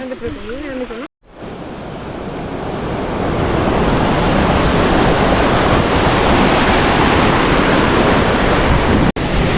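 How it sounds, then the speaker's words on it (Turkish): The Aslan Waterfall in a rainforest near Villa Rica roars in a steady, loud rush of broadband noise after a brief pause, with heavy wind buffeting the microphone. "Burası da Aslan Şelalesi"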